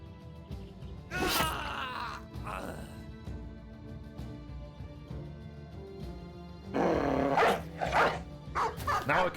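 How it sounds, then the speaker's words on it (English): Dogs bark and snarl in short bursts during a battle in the video game Battle Brothers, two loud flurries over a low rumbling game background. "Now I can release the dogs."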